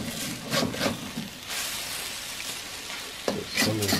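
Pad Thai noodles, eggs and vegetables sizzle and fry in a pan while being stirred, steady crackling with a few scraping stir strokes near the start and end.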